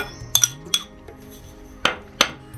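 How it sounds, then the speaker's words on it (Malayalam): Spoon or whisk clinking against a bowl while stirring warm boiled milk with a quarter cup of sugar for homemade carrot bread dough, a few sharp separate clinks with quiet pauses between. "ഇതൊന്ന് മിക്സ് ചെയ്യാം നമുക്ക്"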